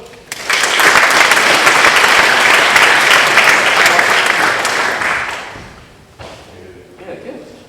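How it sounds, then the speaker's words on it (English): A seminar audience breaks into loud, sustained applause for volunteers, dense clapping that holds steady for several seconds before thinning out, with a few stray claps and voices after. "Give a round of applause."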